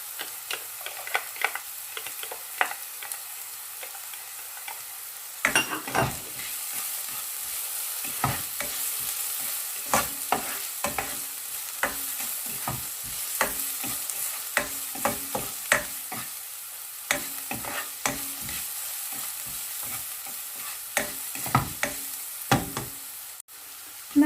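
Onions and garlic sauté in a pan for Filipino-style meat loaf, a soft continuous sizzle punctuated by frequent sharp knocks and scrapes of a spoon stirring against the pan.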